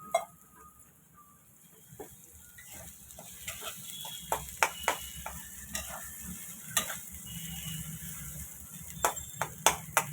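Chutney fries in oil in a pan with a soft bubbling sizzle. Sharp spoon scrapes and taps against the pan come at irregular intervals, without voices.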